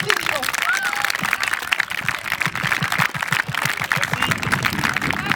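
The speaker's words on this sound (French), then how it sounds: "je vais me joindre à vous pour faire un tonnerre d'applaudissements à notre président" Audience at a school barbecue day applauding their president, a sustained burst of rapid clapping mixed with cheers and overlapping voices.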